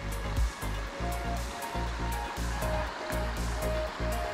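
The River Ybbs runs low beside a footbridge, a steady broadband rush of flowing water, close and continuous, with faint rhythmic dips and no talking.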